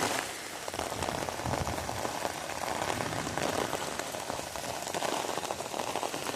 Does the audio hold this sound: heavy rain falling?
yes